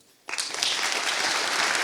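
An audience bursts into applause after a talk on farming and climate change, the clapping starting abruptly and holding dense and steady to the end.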